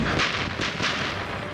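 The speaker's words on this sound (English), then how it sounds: "the Viet Minh artillery was invisible and the shelling relentlessly powerful" Heavy artillery shelling at the Battle of Dien Bien Phu in 1954, a dense continuous roar of blasts and rumbling impacts with a few stronger bursts, loud and sustained throughout.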